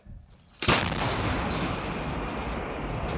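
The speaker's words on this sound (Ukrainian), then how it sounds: "Гармата! Постріл!" A single loud Ukrainian army artillery cannon blast erupts suddenly at the front after a quiet moment, followed by a long, rumbling roar that fills the rest of the clip.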